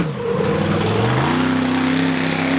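A loud off-road vehicle engine revs high and climbs in pitch at a 4-wheel drive competition, sustained and close, with no voices.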